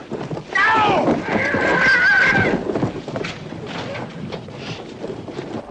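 A horse whinnies loudly in a rising, wavering call on a film set during a struggle, with shouting voices and scuffling over and around it.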